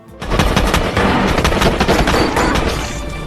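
Loud, sustained automatic gunfire from an action film scene about elite forces fighting inside a building: dense rapid bursts of shots with heavy booming low end, close and continuous for about three seconds without speech.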